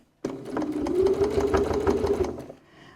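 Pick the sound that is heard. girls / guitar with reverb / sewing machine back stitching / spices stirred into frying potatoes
sewing machine back stitching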